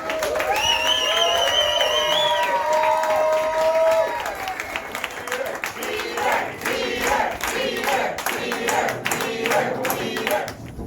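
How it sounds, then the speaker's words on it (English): A comedy roast audience claps and cheers steadily for several seconds, with whoops and shouting voices rising over the applause. "Huge round of applause for yourselves and Donovan"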